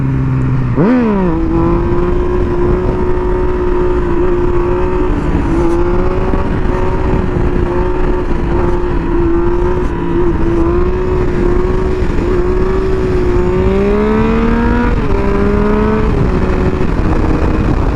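A Yamaha FZ-09 motorcycle engine revs hard and sustained, with a sharp throttle blip at the start and a steady high whine with shifting pitch during a clutch-up wheelie, loud and close with no talk.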